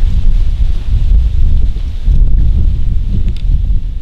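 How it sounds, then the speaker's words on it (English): Strong wind gusts over a picked Iowa cornfield, roaring and buffeting steadily against the microphone with low rumbling bursts throughout. "it's really windy today"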